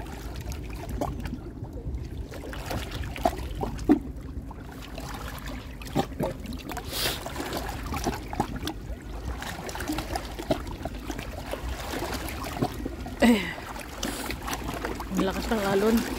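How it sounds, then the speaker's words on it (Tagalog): Strong waves slosh and churn around a small boat out on the water in a steady, rough wash. People talk over it now and then. "Ang lakas ng alon."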